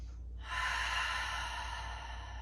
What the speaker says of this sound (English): let's find one more big breath here